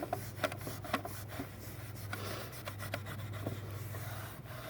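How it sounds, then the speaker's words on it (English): A rag rubbing wood stain onto a wooden mason jar plaque, soft repeated scrubbing strokes along the grain, close and quiet, with a low steady hum underneath. "there's no wrong way to rub the rag, but you should rub it with the grain"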